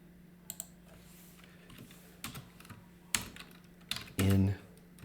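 Fingers type on a computer keyboard in scattered, light bursts of clicks during a spreadsheet session, with a quick run of keystrokes near the end and a faint hum underneath.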